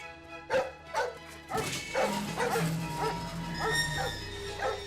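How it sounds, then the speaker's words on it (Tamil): A dog barks repeatedly in sharp, close yaps, mixed with whimpering and yips, while a person's voice is heard in the background. "நாய் கட்டிருக்கா?"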